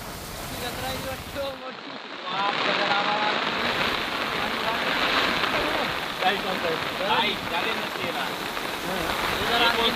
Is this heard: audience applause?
no